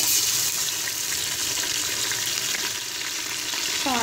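Ginger garlic paste frying with browned onions in a pan, giving a steady, close sizzle that runs evenly throughout with no talking.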